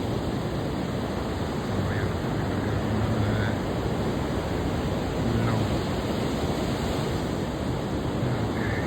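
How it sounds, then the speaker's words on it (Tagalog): Big ocean waves at the sea make a continuous, broad roaring wash, with surges of surf rising and falling under a steady noisy rush, heard close and alone. "Dito na, maingay. Lalaking alon. Dito sa dagat, dito sa water eh."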